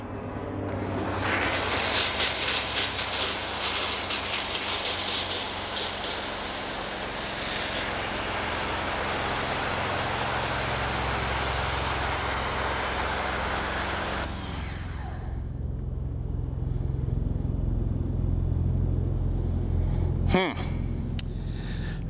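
Pressure washer spraying Car Glo Auto Gloss soap through an MJJC Foam Cannon Pro, a loud, continuous hissing roar for about fourteen seconds that cuts off, leaving a lower rumble and a brief knock near the end.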